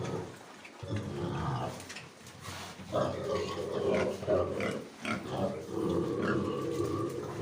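Duroc pigs on a farm grunt and snort close by, a steady jumble of low rough oinks that overlap continuously, with a short lull early on.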